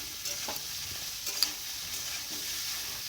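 Soybean chunks and green chili being stirred and fried in oil in a village kitchen, a soft steady sizzle with a few faint scrapes, quiet and even throughout.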